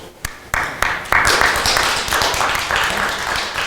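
Applause from the audience after an evening nature-science talk on Estonia's land uplift and sea level rise, beginning with a few scattered claps and swelling into steady, full clapping that carries on to the end.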